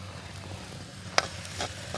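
Mustard seeds and fennel temper in hot coconut oil in a new pan, giving a soft, close sizzle broken by one sharp pop and a second fainter crackle. No talking.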